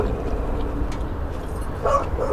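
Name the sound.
dog Chester yipping and whimpering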